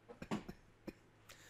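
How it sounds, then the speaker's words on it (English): A person coughs several times in short, uneven bursts, close to the microphone and fairly quiet, with no speech around the coughs. "Excuse me as I cough up a storm."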